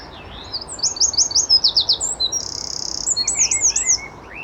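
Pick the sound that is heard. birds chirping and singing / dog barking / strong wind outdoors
birds chirping and singing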